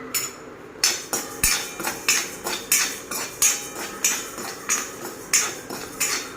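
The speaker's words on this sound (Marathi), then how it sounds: "डाळ एक दोन तीन मिनिटं अशी चांगली हलवत राहायची" Dal is stirred in hot oil in a kadhai, a spoon scraping and knocking against the metal in a steady rhythm of about a dozen loud, close strokes, with no talk over it.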